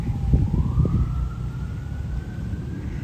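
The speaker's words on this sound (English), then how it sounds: "You can hear the ambulances from the island, from Manhattan." A distant ambulance siren in New York City wails with a slowly rising pitch, heard from Roosevelt Island over steady low traffic rumble and city noise.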